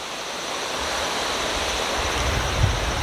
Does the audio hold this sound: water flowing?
yes